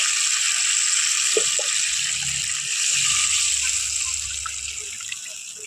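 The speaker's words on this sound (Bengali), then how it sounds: "এখন আমি এখানে দিয়ে দেব জল।" Water poured into a pan of soybean curry, a steady rushing splash close by with faint rattling in the pan, continuous throughout and easing slightly toward the end.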